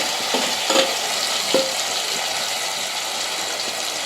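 Marinated chicken pieces tossed into a hot pan, frying with a steady broad sizzle and a couple of brief clinks of stirring, close and alone without talk.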